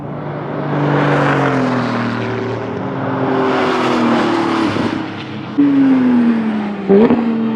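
A loud Aston Martin race car engine roars past on a track, its pitch sliding downward as it goes, with a sharp gear-change snap near the end.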